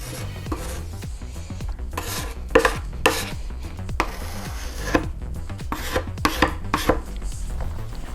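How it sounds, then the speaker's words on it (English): A tool spreads wood filler along cracks in a wooden desk, making close, irregular scraping and rubbing strokes with sharp bursts of texture, each pass audible on its own with no talking. "just gonna go down the lines and put wood filler on."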